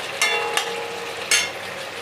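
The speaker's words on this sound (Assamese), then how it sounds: "কিন্তু অলপ সময় ইয়াতে মই ভাজি ল'ম।" Goat mutton sizzles and fries in a pan, giving a steady crackling hiss with a few sharper spattering bursts heard close by.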